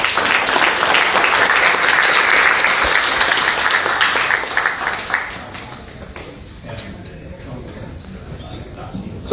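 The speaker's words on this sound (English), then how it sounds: "give a big hand of applause to Mr." Loud, sustained audience applause at a 2022 Guam gubernatorial debate, dense clapping for about five seconds before thinning out and fading toward the end.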